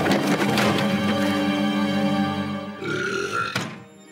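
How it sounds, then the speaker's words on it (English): A long, loud, croaking burp drags on for a few seconds, ending with a rougher gurgling tail. "Yeah, people hated the burp"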